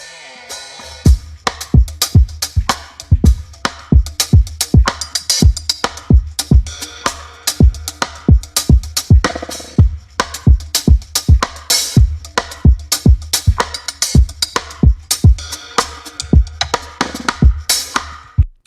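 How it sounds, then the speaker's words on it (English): A drum groove plays alone: punchy kicks and crisp snare or hat hits in a steady, driving rhythm, loud and close throughout. "So here's his drum lick."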